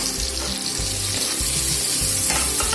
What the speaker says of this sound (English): crushed garlic, and stir it